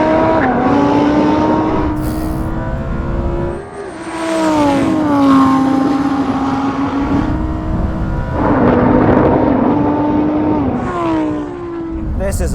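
A Lamborghini Huracan racing an Audi R8 and a Nissan GT-R over a standing quarter mile, loud engines roaring and rising through gear changes, each shift briefly dropping the note before it climbs again.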